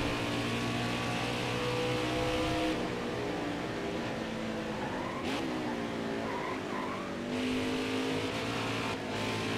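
A race car engine screams through a lap of Watkins Glen in the NASCAR Heat 5 video game, loud and continuous with rising and falling revs through gear changes, plus brief tire squeal in the corners.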